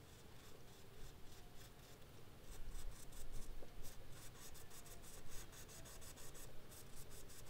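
Diesel injector nozzle from an OM648 engine being lapped on 2000 grit sandpaper, a continuous rhythmic scraping and rubbing of metal on paper in repeated close strokes, with no voices.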